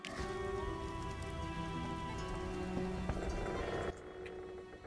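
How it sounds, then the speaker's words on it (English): Continuous rainfall in the video game The Witcher hisses evenly at moderate volume, with faint droplet ticks, then thins abruptly near the end. "It's rain."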